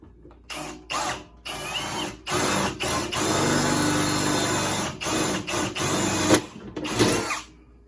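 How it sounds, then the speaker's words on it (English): Power drill boring holes while mounting a John Deere seat, the motor whirring in bursts of several seconds separated by short pauses, loud and close. "And drill a hole here and there."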